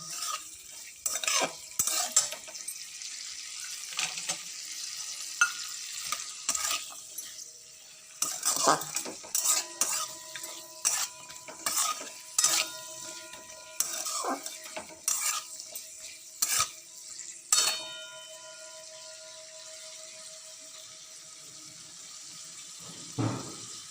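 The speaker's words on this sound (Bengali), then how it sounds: "এবার আমি ফ্রাইড রাইসের জন্য কাজু আর কিশমিশটা ভেজে নিচ্ছি।" Cashews and raisins fry in oil in a pan for fried rice while a utensil stirs them. Metal scrapes and clinks come in irregular bursts over a steady low sizzle, close and clear, with no talking.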